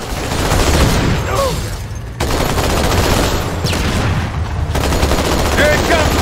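Halo 2 battle on the Delta Halo level: dense, sustained gunfire with bursts of automatic weapons and heavier booming shots, loud and continuous, with a brief lull before the firing resumes.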